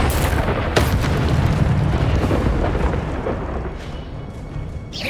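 Incendio fire spell blasting in the wizarding game Hogwarts Legacy, a deep booming burst with a sharp crack near the start, then rolling rumble and crackle that slowly fades, loud and close, no voices.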